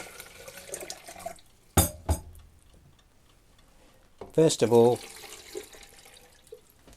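Tap water runs into a film developing tank to rinse excess fixer from the film and tank, a soft steady wash with a few sharp clicks. A person talks over and between the water sounds.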